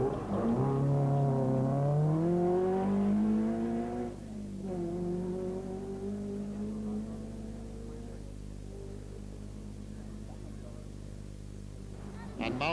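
A rally car engine roars and revs on a dusty gravel stage of the 1981 Circuit of Ireland Rally, loud and close at first, then a lower droning pass that fades to a distant hum.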